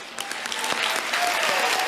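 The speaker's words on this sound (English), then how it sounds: "Let's have another round of applause for Lisa Bloom." After a speech, a crowd gives a loud, continuous round of applause that swells slightly as it goes on.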